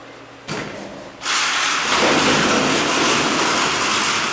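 A Dover freight elevator with Corian doors at an Ikea in Pittsburgh slides open: a brief thud, then a loud rising rumble of the heavy doors moving that carries on steadily to the end, with no talking.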